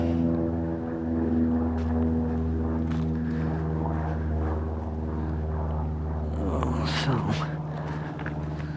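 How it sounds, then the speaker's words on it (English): Airplanes circle overhead in an outdoor area, a steady, loud, humming engine drone with sustained tones that persists throughout and swells slightly near the end. "Planes circling around up there."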